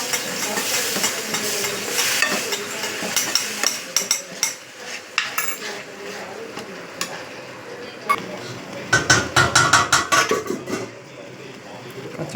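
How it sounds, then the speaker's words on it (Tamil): Ground raw tomato paste hits a hot pan with a loud sizzle, then frying crackle continues as a spoon scrapes and stirs against the metal in quick clattering bursts. "ஒரே அரைச்சி வச்சுருக்க தக்காளி போட்டுருங்க"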